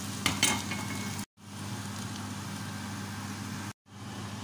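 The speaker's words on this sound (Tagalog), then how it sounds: "Halo-haloin lang natin." Bitter gourd, zucchini and sweet potato are stirred together in a sizzling pan, with a few spoon scrapes near the start over a steady frying hiss that cuts out briefly twice.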